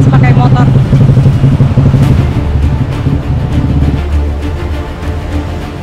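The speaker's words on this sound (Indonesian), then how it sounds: "Sungainya ini diterabas pakai motor." A motorcycle fords a river in Aceh Jaya, its engine droning loudly up close while water churns around it; voices talk over the crossing.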